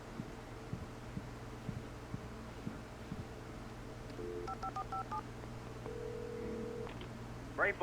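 Telephone keypad dialing in Alan Wake Remastered: a quick run of distinct button tones, then a steady ringback tone, heard over a low in-game hum and faint thumping footsteps.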